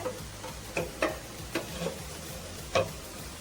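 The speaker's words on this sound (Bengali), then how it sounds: "এখন আমি নেড়ে চেড়ে আর একটু নেড়ে চেড়ে নরম করে নিব" Cooked taro with shrimp is stirred in a pan, giving a quiet sizzle under soft, irregular taps and scrapes of a spoon against the pan.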